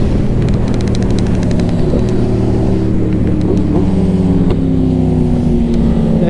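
A Yamaha R7 motorcycle engine revs hard during aggressive street riding, a loud, continuous roar whose pitch climbs and shifts through gear changes, close and dominant over road and wind noise.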